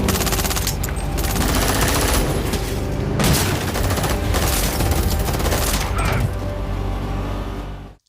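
Sustained automatic gunfire rattles through an action film shootout, dense rapid bursts with sharp cracks and a brief break near the middle, loud and continuous before cutting off abruptly at the end.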